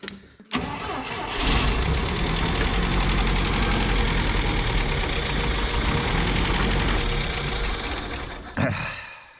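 A 1967 International Scout, long abandoned, cranks steadily for about eight seconds with the starter grinding loud and close, the engine catching roughly without settling into a run before the cranking cuts off.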